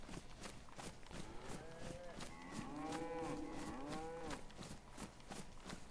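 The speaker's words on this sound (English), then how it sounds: "That's definitely a cow." Cows in the video game DayZ let out long, wavering moos that overlap in the middle of the stretch, set against steady thumping footsteps and game ambience.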